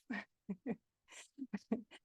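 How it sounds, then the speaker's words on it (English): A dog waking up indoors gives a few short, soft whimpers and breathy sounds in separate bursts, faint and close by, with no one talking. "my dog woke up"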